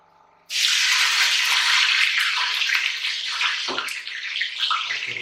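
Crayfish and onion start frying in a hot pan: a sudden loud sizzle breaks out and holds steady, close by, with light clatter near the end.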